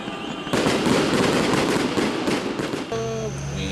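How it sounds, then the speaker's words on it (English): A New Year fireworks display seen from a hotel: a dense, continuous barrage of crackling bursts and booms, loud and close, then fading to scattered pops with a tonal whistle or hum in the last second. "witness the fireworks display to welcome the new year"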